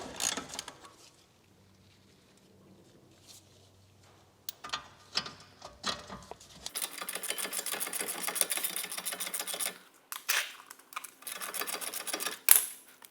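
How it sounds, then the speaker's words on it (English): A ratchet loosening the bolts of a single-piston brake caliper on a Mk7 VW Golf. It gives a few sparse clicks, then a long run of rapid, close ratcheting with short pauses and no talking. "they're dead easy to get off with a ratchet"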